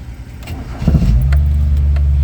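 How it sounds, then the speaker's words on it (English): A 1991 Ford Festiva engine starts up and settles into a steady, close, low idle, with a slight rev just as it catches and no talking over it. "I'll show you the engine while it's running."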